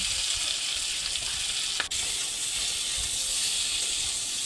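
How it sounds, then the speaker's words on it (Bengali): Steamed potato and papaya frying in hot oil with panch phoron, salt and turmeric, a steady close sizzle and hiss throughout with one brief scrape near the middle. "কড়াইয়ে তেল গরম হয়ে গেছে, পাঁচফোড়ন দিয়ে ভাপিয়ে রাখা আলু পেঁপেটা লবণ হলুদ দিয়ে ভালো করে ভেজে নেব"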